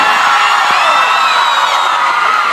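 At a concert in Pato Branco, a large crowd shouts and screams loudly and continuously, a dense, sustained roar trying to win a Cruzeiro shirt.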